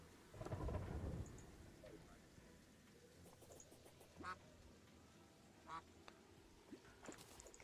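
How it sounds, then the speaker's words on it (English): Ducks quack in short, scattered bursts inside the video game Terraria, with a heavy rumble of thunder and rain near the start and the quacks spaced out over a steady stormy background. "don't know how the ducks ended up in here either"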